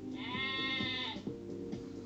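Sheep bleat close by, a long wavering cry followed by a few shorter, overlapping bleats from the flock.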